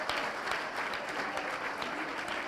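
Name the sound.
applause welcome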